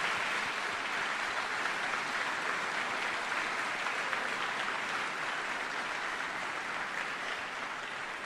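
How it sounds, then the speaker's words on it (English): Steady audience applause fills a change of command ceremony honoring Col. Thomas J. Kilbride, a dense, even wash of clapping that holds at full strength throughout without talk. "if you would please join me in giving a round of applause"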